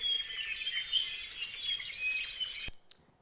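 Native Hawaiian forest birds in a recorded soundscape: a dense, steady chorus of high chirps and thin whistles fills the air at moderate distance, cut off near the end by a brief click and quiet.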